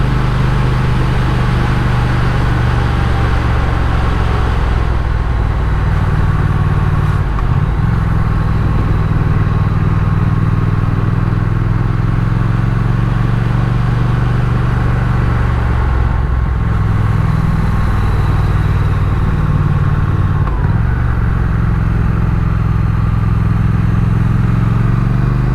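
A motorcycle engine drones steadily and loudly while climbing Col du Tourmalet in the Pyrenees, with pitch shifts at gear changes, heard close up over constant wind and road noise.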